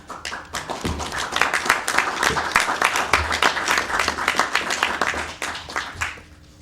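Scattered applause at a county council meeting, a modest group of people clapping in an uneven patter that swells, holds for several seconds and then tapers off.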